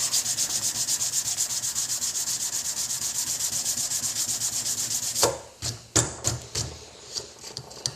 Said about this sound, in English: hit it with a sanding block real quick